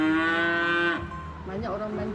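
Cow mooing in a rural lane setting, one long loud drawn-out moo that breaks and trails into a lower, wavering groan, heard alone and close.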